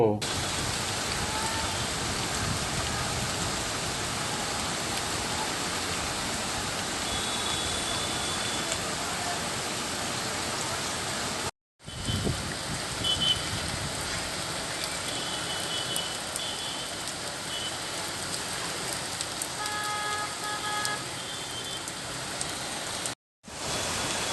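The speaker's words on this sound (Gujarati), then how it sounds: "શહેરમાં પંદર મિલીમીટર જેટલો વરસાદ પડી ગયો હતો" Steady rain hisses evenly throughout over Bhavnagar city, broken by two brief cuts of silence, with faint tonal sounds in the background.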